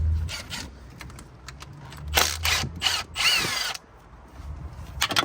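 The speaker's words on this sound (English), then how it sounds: "Let's take this bolt off" A power tool whirs in short, repeated bursts while removing a bolt from a BMW F80 M3 engine, with ratcheting clicks and clatter in between, close up and fairly loud.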